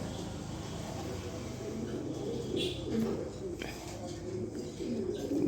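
A male racer pigeon coos softly in a few low, rolling phrases, close by, over a steady background hum with no speech.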